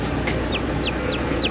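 Chickens on a family farm in Maasin, Iloilo, Philippines give four short, evenly spaced high peeps, like a newly hatched chick, over a steady background hum, moderately close and with no talk.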